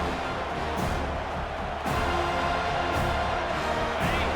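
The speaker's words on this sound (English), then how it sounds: "Here comes this home crowd as the defense tries to get off the field on third down." Home stadium crowd at a college football game, Arizona Wildcats at Florida State Seminoles, roaring steadily as the defense faces third down, a loud dense wall of cheering that swells briefly partway through.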